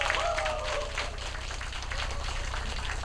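Audience clapping at a Korean political party event in Daegu, a steady crowd applause spread across the whole moment, fairly dense and even with no voices on top.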